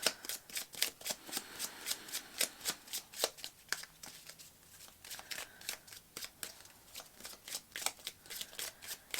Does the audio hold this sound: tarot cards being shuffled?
yes